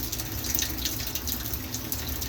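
Steady hiss of hot water running from a home-made heater fed through a fine needle valve and lit by a pilot light, continuous and fairly soft with no talking.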